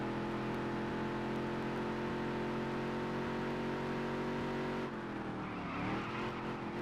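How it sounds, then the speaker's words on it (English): A modified race car engine in a racing video game holds a steady, loud drone with dense harmonics, then drops in pitch and rises again near the end as it downshifts. No one talks. "I'm going to downshift in here because I want the torque coming off of it"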